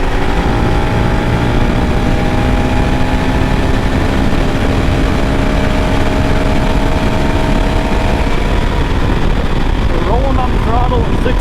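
A 2022 Honda CRF450RL is ridden at high speed on a road in sixth gear, its engine drone loud and continuous with a slowly rising pitch and heavy wind noise.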